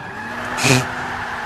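Car tyres screech in a short burst during a drift in the Forza 5 racing game, rising over a steady engine hum and fading within about a quarter second.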